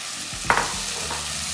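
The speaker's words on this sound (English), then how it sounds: "and saute the tomatoes for a few minutes" Tomatoes sautéed with onion, garlic and ginger hiss loudly and evenly in the pan, with one brief spatula scrape near the middle.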